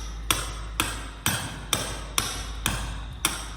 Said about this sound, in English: gonna chisel in this channel to hide this polyflex in the cement floor